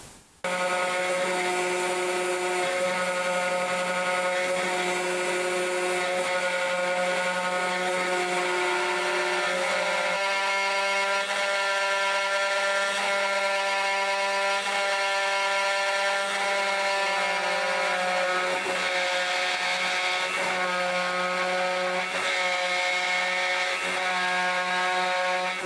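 A CNC machine runs its finishing pass carving a wooden carver's mallet, a loud continuous whining drone with steady tonal harmonics and small shifts in pitch as the cutter moves, lasting the whole stretch with no voices.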